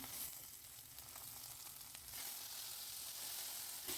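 Mint and coriander leaves sautéing in a pan with green chillies for a paneer masala gravy, a steady close sizzle with brief stirring scrapes, no voices.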